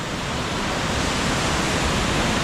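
Raymondskill Falls in Pennsylvania, a large waterfall, gives a loud, unbroken roar of rushing water heard up close with no other sounds.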